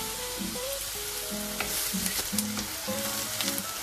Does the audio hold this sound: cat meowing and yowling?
no